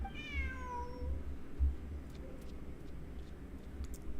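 A cat meows once in Genshin Impact, a clear, rising-then-falling cry near the start that stands out over soft background game ambience, followed by a few faint ticks.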